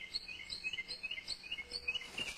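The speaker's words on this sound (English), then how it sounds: "There are a lot of birds chirping." Birds chirping outdoors beside a fence near a hospital and residential building in June, a quiet, regular series of high, bright tweets repeating through a calm background.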